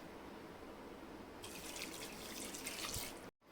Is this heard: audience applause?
no